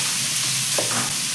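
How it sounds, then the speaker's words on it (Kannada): Idli pieces fry lightly in a pan for idli upma, a steady soft sizzle with faint stirring scrapes running throughout, no voices. "ಡೀಪ್ ಫ್ರೈ ಏನು ಬೇಕಾಗಿಲ್ಲ, ಸ್ವಲ್ಪ ಫ್ರೈ ಮಾಡಿಕೊಂಡ್ರೆ ಸಾಕು"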